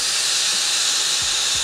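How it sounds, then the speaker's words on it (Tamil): Steam hisses steadily and loudly from the whistle of a pressure cooker on the stove while chana dal cooks, a continuous close spray with a couple of faint low knocks near the end. "இந்த ஆவி கெரியாக போயிடும்."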